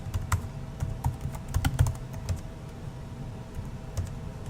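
Computer keyboard typing of a username and password while logging into a remote device over SSH, a run of quick soft key clicks in uneven bursts over a quiet room background.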